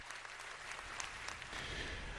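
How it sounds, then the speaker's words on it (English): Applause at a church or political rally event attended by former senator Rick Santorum, with a pastor speaking; steady broadband clapping fills the clip at moderate distance, swelling slightly toward the end, with no talk over it. "later shows a standing Santorum applauding"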